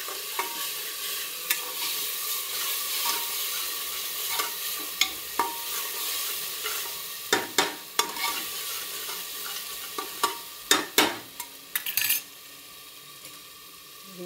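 A ground paste of ginger, garlic, coconut, coriander and curry leaves hits hot oil and fries with a steady sizzle, while a spoon stirs and scrapes the pan in repeated sharp clatters.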